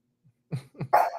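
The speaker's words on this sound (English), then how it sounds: "My dog." A pet dog gives a few sharp barks close by, a quick pair of short woofs followed by a longer, louder bark, with silence before them.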